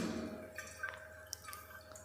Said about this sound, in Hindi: इस तरह से धीरे धीरे ड्रॉप बाय ड्रॉप इसमें डालेंगे